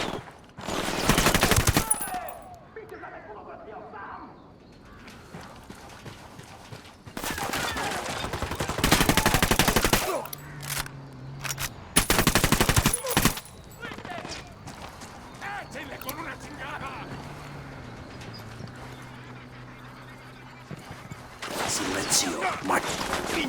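Gunfire in the Ghost Recon video game, heavy bursts of automatic shots coming in several loud clusters across the stretch, with spoken dialogue and quieter ambient game sound between the volleys.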